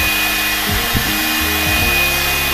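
A hair dryer blows steadily at close range for a bleached-hair drying session, a loud, constant airy roar with some low rubbing and handling noises underneath.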